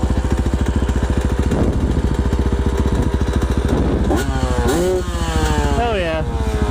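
A Honda CR 125 two-stroke dirt bike engine running on trails, a loud, buzzy, close idle that rises into several sharp revs near the end, with other dirt bikes around.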